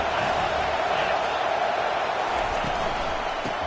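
Football stadium crowd roaring steadily as the home fans push to keep the opponent pinned deep in their own end, a continuous dense wash of noise with a commentator talking over it.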